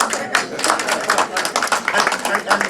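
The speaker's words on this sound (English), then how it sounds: "Yeah, you can clap her." An audience claps for a speaker at a Jamaican literary salon with a jewelry and art exhibit, a steady patter of many hands at moderate distance, with faint talk mixed in.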